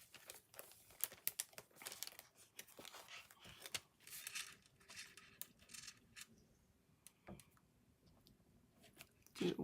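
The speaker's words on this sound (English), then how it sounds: "And let's just grab my scissors here to do this." Scissors snip and paper crinkles while black paper embellishments are cut for a craft project, with scattered close clicks and rustles, intermittent and fairly quiet.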